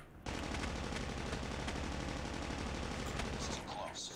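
Sustained rapid automatic gunfire in the Call of Duty Mobile game, a dense continuous volley starting abruptly and running almost unbroken to the end, loud and close with no talk.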